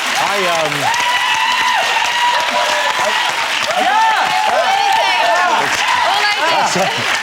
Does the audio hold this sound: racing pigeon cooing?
no